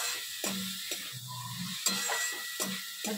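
Fish curry cooking in a pan, with a steady sizzle under repeated scraping and tapping of a spoon or spatula against the pan in an uneven rhythm, close by with no talk.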